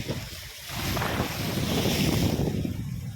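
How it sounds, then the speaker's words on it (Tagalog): Heavy surf surging and crashing nearby, a broad roaring wash of water that builds and stays loud, with wind buffeting the microphone. "Lakas ng alon, wala pang bagyo to, oh."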